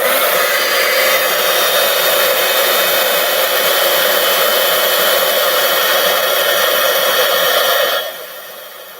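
A handheld heat tool blows a loud, steady rush of hot air over a stamped paper card for about eight seconds, then cuts off abruptly.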